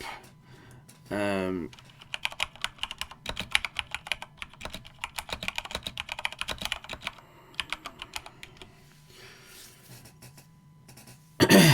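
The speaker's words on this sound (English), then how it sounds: "sorry about the typing" Rapid typing on a computer keyboard, dense clicking bursts with short pauses, close and fairly loud, broken by a throat clear near the start and a brief louder noise at the end.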